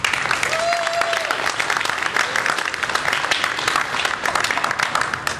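An audience applauds the young contestants at a Little Mr. and Little Miss Liberty pageant. The clapping is loud, dense and sustained, with no pauses, and a faint voice comes through underneath.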